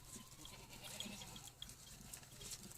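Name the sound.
Barbari goats bleating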